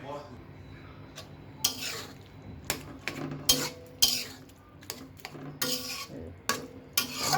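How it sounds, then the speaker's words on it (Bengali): Mashed taro, potato, eggplant and mung dal vegetable curry in a pot, with irregular scraping and knocking strokes of a utensil against the pot, loud clacks spaced over a low simmering sizzle. "ভালো করে এরকম করে একটু ম্যাশ করে নিতে হবে"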